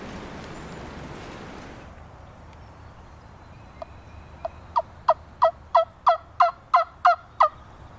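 Wild turkey gobbler gobbling in a creek-side spot during spring turkey season, a rapid run of about nine sharp, rising gobble notes that grows louder toward the end, set against a steady outdoor hiss.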